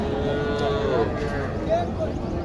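A Sahiwal or Gir cow at a cattle market in Naogaon lows in drawn-out moos over a busy crowd murmur, close and moderately loud.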